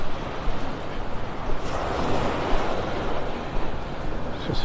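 Continuous loud roar of Gulf of Mexico surf on a beach in North Naples, Florida, waves breaking and hissing with wind noise throughout.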